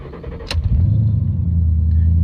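A 2013 car with a seven-year-old battery starts with a sharp click and brief crank, then its engine catches and settles into a steady, low idling rumble.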